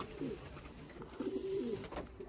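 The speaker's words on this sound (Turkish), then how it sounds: "Dönek kuşu yani." Tumbler pigeons coo in a pigeon loft, soft low repeated coos in short phrases, fairly faint against a quiet background hiss, with no talking.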